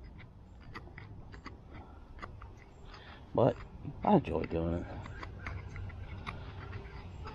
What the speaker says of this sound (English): Hear all the birds in the background.